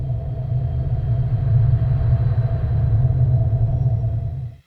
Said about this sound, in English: I used a low rumbling wind.